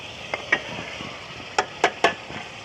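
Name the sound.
tomatoes added to pan of frying spices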